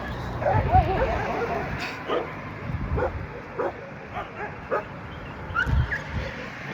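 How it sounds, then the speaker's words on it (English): Dogs fighting outdoors, a chorus of yelps, whimpers and short barks coming in bursts from a moderate distance, mixed with general background noise. "The dogs are fighting"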